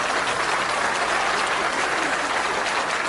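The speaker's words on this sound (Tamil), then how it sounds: "ஒரு அரங்கு நிறைந்த கைத்தட்டல் கொடுக்கலாம்" An audience in a packed hall claps steadily, a dense, even wash of applause that holds at full strength throughout without pause.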